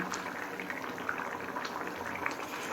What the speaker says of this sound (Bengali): এবার হাই ফ্লেমে সমস্ত কিছু সিদ্ধ হয়ে আসা পর্যন্ত রান্না করে নেব